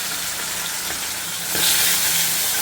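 Fish rubbed with turmeric hits a hot pan of oil, and the close, steady sizzle swells noticeably louder and brighter as the fish goes in, with no talking.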